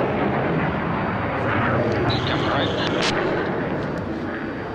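An XB-1 supersonic jet takes off, its engines producing a steady, broad, loud roar that swells slightly and holds throughout, with no talk over it.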